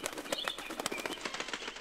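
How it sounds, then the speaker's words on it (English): Fluttering, chirpy video game bird sounds in Super Mario Maker, with rapid flapping-like bursts, fairly steady and close, with no talking. "Now there's birds."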